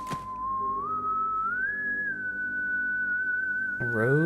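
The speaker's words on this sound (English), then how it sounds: "Someone was whistling." A single person whistles one long sustained tone in Borderlands 3, the pitch sliding gently upward and then holding steady, clear and close, with a brief voice-like sound at the very end.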